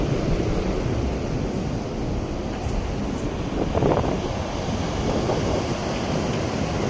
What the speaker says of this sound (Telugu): ఎన్ఐటికే బీచ్ మంగళూరు.